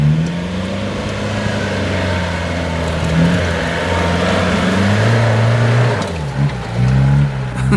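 An Isuzu Bighorn 4x4 climbs an off-road track, its engine revving hard and close with rising and falling pitch, surging again near the end.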